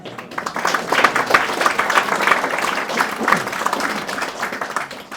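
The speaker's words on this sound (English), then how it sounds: "And we have another round of applause" Mourners at a funeral service for Muiris McCogan applaud after a piece of original music, a full, continuous round of many hands clapping close by, steady for several seconds.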